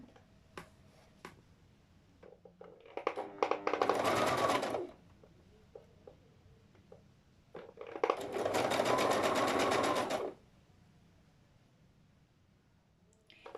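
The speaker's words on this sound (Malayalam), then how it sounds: "ഒരു മടക്കി ഇനിയും ഒരു മടക്കിയിട്ട് ഞങ്ങൾ സ്റ്റിച്ചിങ് ചെയ്യാം." Sewing machine stitching the double-folded hem of a petticoat: two loud, close, sustained bursts of rapid needle running, separated by quiet handling clicks and small taps.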